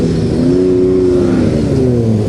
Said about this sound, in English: The number 92 car is absolutely revving it.